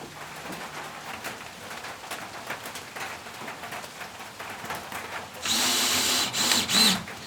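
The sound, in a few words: drill unscrewing a wooden beam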